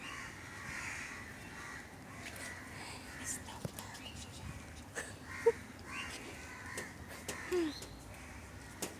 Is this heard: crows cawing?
yes